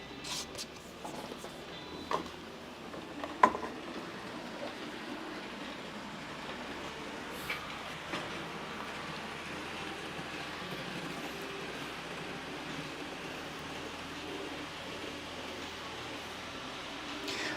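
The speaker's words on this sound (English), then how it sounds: "I'm curious if you guys can hear the trains running in the background." N scale model trains run on a layout as a dull, steady low rumble and hum, faint and continuous, with a few small clicks and no talking.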